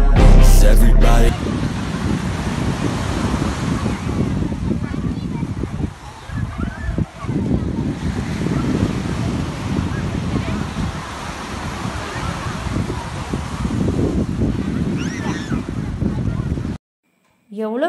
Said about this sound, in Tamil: எவ்வளோ பெரிய அலைகள் வருது பாருங்களேன்.